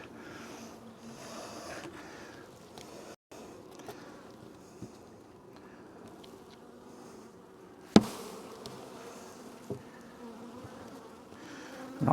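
Honeybees drone in a steady, close buzz during a hive split, broken by a few sharp knocks and clunks of equipment.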